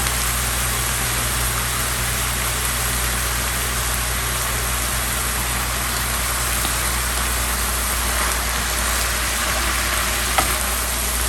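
Cabbage and carrot stir-frying with garlic and ginger give a loud, steady sizzle and hiss that runs unbroken and close throughout, with no talking.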